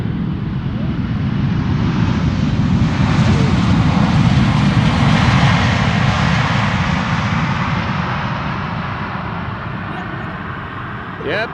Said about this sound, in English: is KLM flight 644 arriving from New York, JFK, 777-300 6 hours and 43 minutes underway